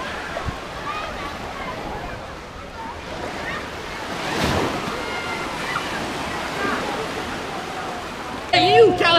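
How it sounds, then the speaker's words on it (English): Ocean surf rolls in by the pier at Pensacola Beach: a steady, broad wash of breaking waves with wind buffeting the microphone, swelling slightly midway and growing louder at the very end. "I'm by the pier at Pensacola Beach."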